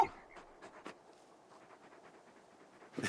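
Torgal, the large hound of Final Fantasy XVI, pants softly and rhythmically up close, a quiet series of short breathy huffs with a couple of faint thumps at the start and end.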